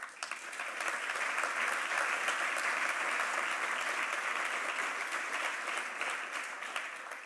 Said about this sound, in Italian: gli farei veramente un grande applauso